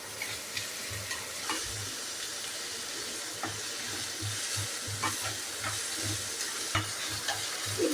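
Onions being lightly sautéed in a pan, a continuous soft sizzle broken by frequent quick stirring and scraping strokes, fairly close and moderately quiet, with no voices.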